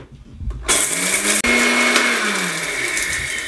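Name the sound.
mixer grinder grinding spices coarsely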